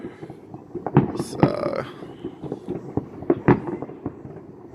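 New Year's Eve fireworks bursting over a town in Russia, a rapid irregular series of distant pops and bangs with a few louder crackling blasts, and a voice speaking briefly.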